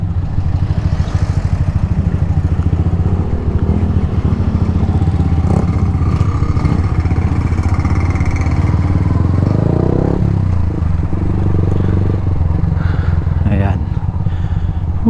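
A motorcycle engine drones steadily and loudly throughout, straining and revving at times while the bike climbs a steep road in hot weather, with rattling and voices under the noise.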